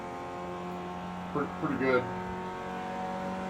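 Audi A1 Quattro race car lapping Bathurst in Project CARS 2, a steady engine drone with a constant low tonal hum under brief spoken commentary from a man.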